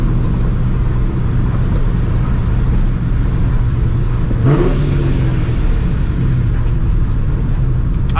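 A supercharged 1999-2004 Ford Mustang GT V8 revs in neutral, a loud steady engine drone with a sharp rising rev burst midway before settling back to a constant roar, with no voices.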